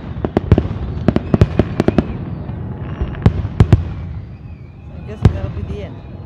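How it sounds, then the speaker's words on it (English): A fireworks show after a boat parade in Alaska produces a series of sharp booming bursts, some in quick clusters and others spaced apart, with crowd noise faintly underneath. "after watching the boat parade and the fireworks show"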